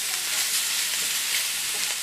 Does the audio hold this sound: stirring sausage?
yes